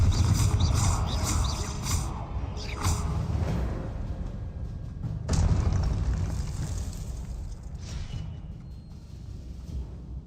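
Confringo fire explosion spell cast in the Hogwarts Legacy video game: a dense, loud rumbling burst, then a second sharp blast partway through that fades into a lingering roar, with no talk.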